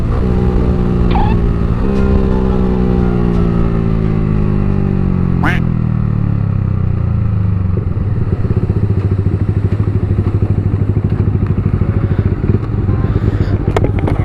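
A modified Yamaha R15 sport motorcycle revs up and pulls away close by, its engine note rising in pitch through the gears with a few clatters and thumps, as a voice talks over it.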